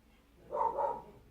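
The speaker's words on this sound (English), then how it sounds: "Some dogs are having a scrap outside" Dogs scrapping outside, heard as one brief muffled growling bark from some distance, alone without talk.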